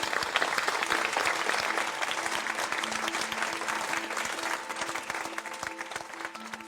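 An audience at an art competition applauds the contestants, a dense, sustained clapping from a moderate-sized crowd that fades gradually toward the end, with a faint tonal hum underneath.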